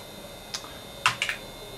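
A few quick keystrokes tap on a computer keyboard, faint and close, in a brief irregular burst.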